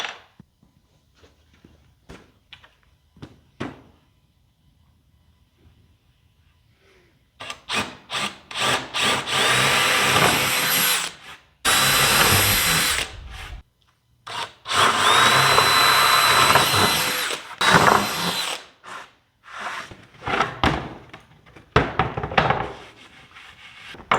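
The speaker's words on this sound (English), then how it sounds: "Once I mark the holes, I'll pull the base off and drill them out." A few light knocks, then repeated bursts of a power drill boring holes into the wooden base of a kitchen island, loud and close, with short pauses between holes.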